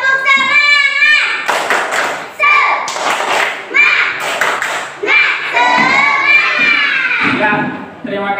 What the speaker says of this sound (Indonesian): Baiklah teman-teman, kita akan tepuk semangat.